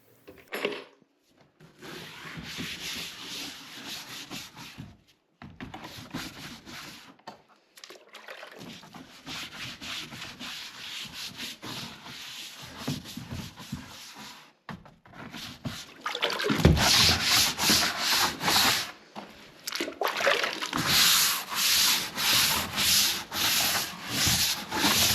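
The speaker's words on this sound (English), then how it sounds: "So I gave it an initial wash with bleach and let it sit for a while before coming back through again." PVC panels in a barn are scrubbed with bleach, a close, rough rubbing and brushing in repeated strokes with brief pauses, growing louder and more vigorous toward the end.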